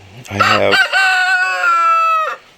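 A rooster crows close and loud, one full cock-a-doodle-doo rising from a rough clucking start into a long sustained call that cuts off cleanly after about two seconds.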